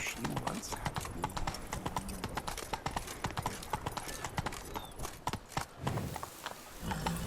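A horse gallops in The Witcher 3: Wild Hunt, with rapid rhythmic hoof clip-clops throughout, moderately close, partly under ambient game sound and a little speech.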